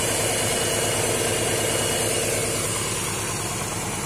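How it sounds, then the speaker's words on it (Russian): A boxer engine idles steadily while its fuel injectors are cleaned with LAVR ML101 cleaner, giving a loud, even, close-up mechanical rumble with a fine rhythmic ticking and no speech. "Вот что такое оппозитный"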